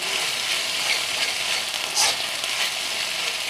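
Ginger, garlic and cumin paste fries in hot oil for a pointed gourd poppy seed dish, a close, steady sizzle with light stirring and one brief louder flare midway.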